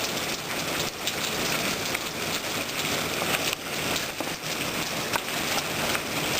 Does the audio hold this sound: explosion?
no